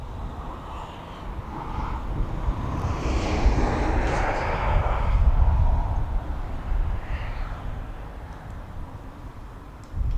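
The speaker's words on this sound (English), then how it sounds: "That Jet 2 737's made its way all the way down to the bottom to 27." A Jet2 Boeing 737 airliner taxis at East Midlands Airport toward runway 27, its jet engines giving a steady whining rumble that swells slightly and fades, heard from a distance with no talk.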